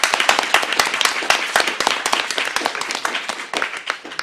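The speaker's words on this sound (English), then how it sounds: "Applaud that." An audience at a conference on stigma and discrimination among key populations claps in a short burst of applause, with distinct, fairly close hand claps in an uneven rhythm that slowly thins out.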